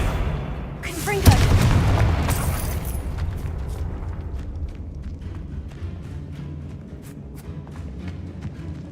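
The Confringo fire spell from the video game Hogwarts Legacy goes off as one loud, booming blast, followed by a rumbling burst that fades slowly over several seconds while a voice talks in the background.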